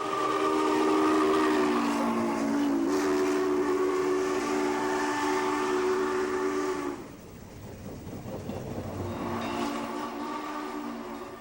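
The Union Pacific 3985 Challenger steam locomotive blows its chime whistle loud and sustained over the rumble of the running train. The whistle cuts off briefly near the end, then sounds again.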